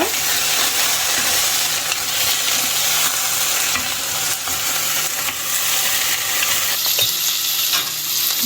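Okra sizzles and fries steadily in a pan with curd and salt being added for a vendakkai kuzhambu, a constant loud frying hiss with occasional stirring scrapes throughout.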